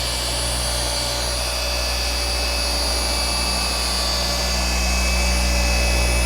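A RUPES polisher fitted with a wool pad spins steadily against the paint of an Audi R8 during a correction pass, a continuous high machine whine with motor hum, loud and close, with no talk.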